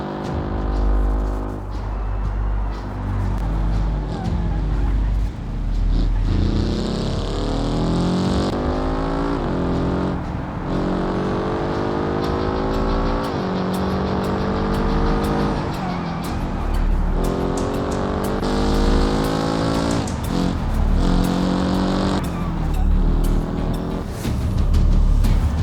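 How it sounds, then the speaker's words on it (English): A street-racing car in the BeamNG driving game tears down a highway at high speed, its engine droning loud and close with repeated rising gear-change sweeps and steady road roar throughout. "Ethan was driving his SBR, driving at high speeds down the Johnson's Highway"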